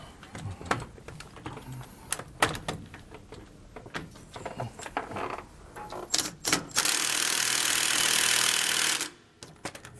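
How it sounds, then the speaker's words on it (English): Impact wrench with a 1 1/8 socket loosening a nut on a Roadmaster rear anti-sway bar under a 2019 Coachmen Pursuit motorhome: clanks and handling first, then a loud sustained hammering burst of about two seconds that stops abruptly. "So I'm going to take a 1 1/8 wrench here, and then with my impact"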